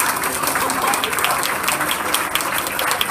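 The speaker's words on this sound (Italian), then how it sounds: "Quindi un applauso per i nostri atleti." Audience applauding young cyclists of a cycling school at an outdoor event, a loud, dense wash of clapping sustained evenly throughout.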